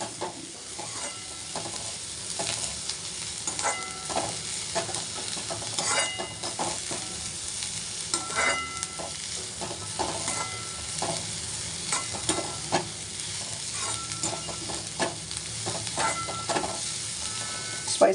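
Leaves being sautéed in a pan for bharda, a continuous close sizzle with rhythmic stirring scrapes and clicks of a spatula, no talking.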